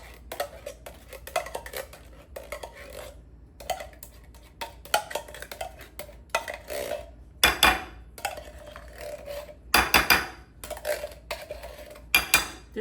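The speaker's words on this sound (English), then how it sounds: "it's called dump cake because basically you just dump everything in the pan" Blueberry pie filling is dumped into a baking pan, heard as a scattered series of clinks, scrapes and clatters of utensils against the pan, growing louder near the end, with no talking.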